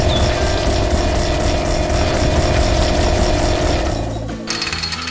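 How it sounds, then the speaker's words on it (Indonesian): An animated drilling machine bores into the ground with a loud, rapid, rattling mechanical hammering, steady and close, before the racket drops away near the end and a brief different mechanical noise follows. "Bor itu sedang bekerja keras menggali tanah, mengguncang bumi dengan suara bisingnya"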